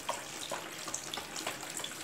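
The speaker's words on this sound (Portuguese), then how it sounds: "E agora eu vou colocar também 750 de álcool, bem devagar." Rubbing alcohol trickles slowly into a batch of homemade liquid soap, a faint, steady liquid pouring sound with small splashy ticks and no talk.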